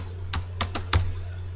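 Four sharp, separate key clicks on a computer keyboard while Python Flask code is typed, spaced unevenly over a second and a half, with no voices.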